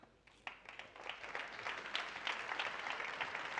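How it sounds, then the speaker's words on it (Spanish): An audience applauds violinist Diana Valencia at an opera-themed show, clapping that starts sparse and builds into steady, fairly distant applause. "voy a pedir un fortísimo aplauso para Diana Valencia"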